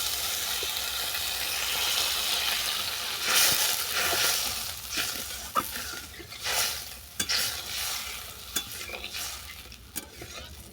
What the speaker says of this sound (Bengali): সমস্ত মশলা ভালো করে কষানো হয়ে গেছে আর মশলা থেকে তেলও ছেড়ে গেছে এরপর দিয়ে দিচ্ছি মশলা বাটা জল